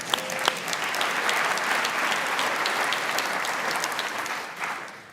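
A conference audience at the Mackinac Policy Conference breaks into a loud, full round of applause, dense steady clapping from a big hall crowd that holds for several seconds and then begins to taper.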